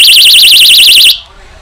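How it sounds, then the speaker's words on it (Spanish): A small personal alarm shrieks with a loud, rapidly warbling electronic siren for about a second, then cuts off abruptly into quiet room tone. "También tenemos las alarmas personales."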